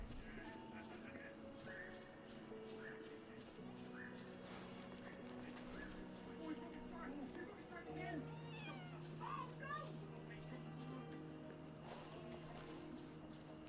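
Several kittens meowing in a video game, a few short, high mews clustered midway over steady background music, with a person talking softly.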